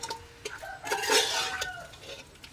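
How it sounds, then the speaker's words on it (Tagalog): Pork sautés in a pot for sinigang while a utensil scrapes and clinks against the metal, giving short, close stirring sounds over a soft sizzle. "Igisa natin ng maigi yung ating karne."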